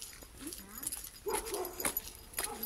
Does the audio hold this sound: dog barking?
yes